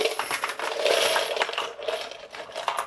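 Framing nails pour into a plastic small-parts organizer bin in a workshop, a continuous metallic clattering and jingling cascade close up, steady for a few seconds with no talk.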